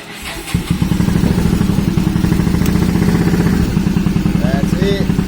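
A Suzuki Marauder VZ800 motorcycle, just fitted with a new stator and rectifier, cranks briefly and catches, then settles into a loud, steady, lumpy idle that runs close by for several seconds.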